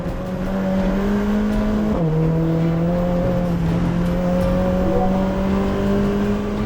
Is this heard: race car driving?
yes